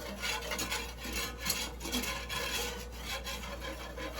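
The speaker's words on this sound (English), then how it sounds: "Whisk it right up real good." A whisk scraping steadily around a pan of gravy for country fried steak, a continuous close rasping and rubbing swish with no talking.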